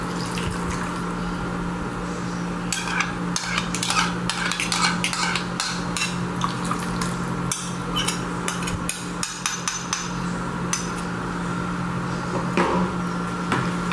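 A utensil clinks and knocks against a mixing bowl as a milk and yeast mixture is stirred into butter and eggs for yeast donut dough. The sharp taps come in irregular bursts over a steady background hum, with no talking.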